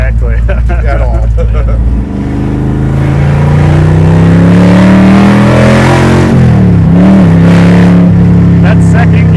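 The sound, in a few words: 1,000HP Hellephant Dodge Charger accelerating in second gear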